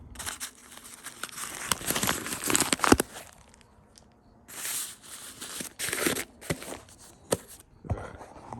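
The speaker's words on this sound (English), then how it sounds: "All right, I'm gonna unwrap this." Plastic wrapping around a Khukuri House Power Hammer Bowie knife crinkles and rustles up close in repeated bursts, with short pauses between handfuls and a few sharp crackles.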